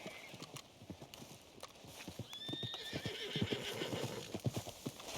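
A horse in a video game clip-clops in a run of steady hoofbeats, then whinnies in a drawn-out neigh while the hooves keep going, all fairly quiet apart from a sharp sound at the very end.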